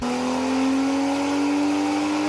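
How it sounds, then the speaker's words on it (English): A BMW M235i or M240i engine with anti-lag revs hard with a steady high-pitched drone, loud and close, holding for a couple of seconds before cutting off abruptly. "they both sound anti-lag wise insane"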